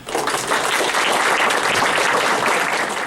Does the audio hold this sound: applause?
yes